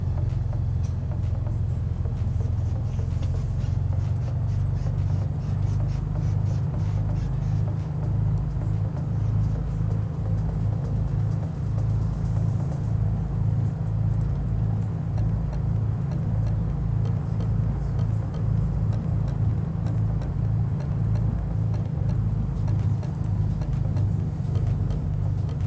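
Mooney M20 Ovation single-engine plane taxiing toward runway 4 at Yellowstone Regional in Microsoft Flight Simulator 2020, a steady loud low engine drone with a constant rumbling hum, unbroken for the whole stretch.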